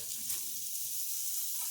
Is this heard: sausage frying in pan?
yes